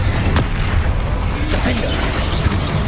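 A Bombarda spell blast in Hogwarts Legacy during a troll fight, heard as a loud, sustained booming explosion with continuous heavy low rumble, followed by sharper pops, with voices and game sound mixed in.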